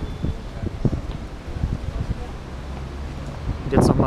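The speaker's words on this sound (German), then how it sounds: "Kurz den Wind abwarten, dann nochmal." Gusty wind blows outdoors, buffeting the microphone with a steady low rumble that swells louder near the end.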